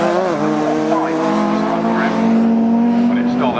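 Race cars at Cadwell Park circuit in a Westfield, Fletcher Hornet and Lotus replica battle, engines droning loudly and shifting pitch as they brake and pass close by, with a commentator talking over them.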